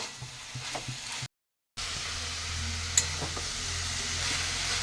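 Steady frying sizzle of beto shaak greens with a few soft scraping stirs in a pan, interrupted by a brief gap of silence.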